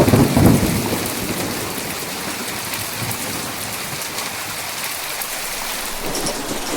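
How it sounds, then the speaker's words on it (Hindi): Steady heavy rain hisses throughout, with a deep rumble of thunder at the start that fades into the continuing downpour. "मौसम इतना खराब हो चुका था कि बारिश के साथ जोरदार बिजली भी कड़कने लगी"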